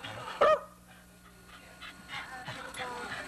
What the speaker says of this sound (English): He wants to go after the other dog, Lee.